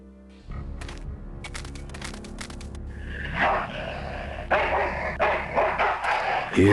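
A dog in the Full Throttle video game barks in loud, repeated bursts over a game soundtrack, with the barking growing rougher and denser toward the end.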